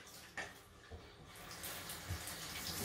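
Tap water runs steadily into a bathroom sink during rinsing, a close, continuous hiss and splash with no talk over it.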